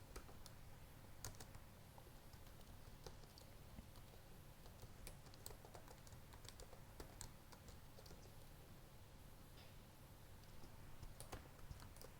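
Fingers tap out a command on a computer keyboard, with quick, irregular keystrokes clicking steadily and softly, close by in a quiet room.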